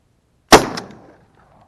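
A single sharp, loud shot from a 20-gauge Rizzini BR-110 shotgun fired outdoors at a 35-metre target, with a brief decaying tail afterward.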